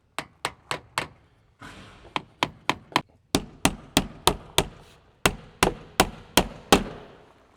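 Sharp, close hammer blows on metal window trim land in quick bursts of four to six, about twenty strikes in all, with short pauses between groups.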